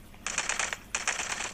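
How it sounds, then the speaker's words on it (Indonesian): Two rapid bursts of automatic gunfire in the video game LifeAfter, each a quick crackling rattle lasting about half a second, with a short gap between them, fairly close and loud. "Dan kita tembak-tembak dulu ya"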